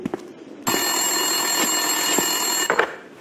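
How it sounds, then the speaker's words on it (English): A desk telephone rings in a police station in the video game Max Payne 2, one loud, sustained electronic bell burst lasting about two seconds, close and clear, with faint clicks before and after. "Winterson's phone was ringing."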